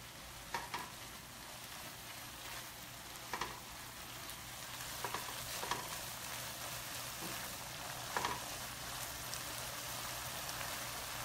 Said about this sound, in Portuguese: Aí a gente coloca a pimenta e o tomate